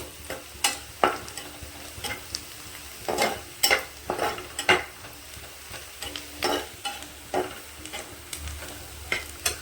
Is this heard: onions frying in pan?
yes